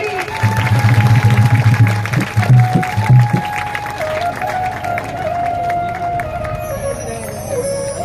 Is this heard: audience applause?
yes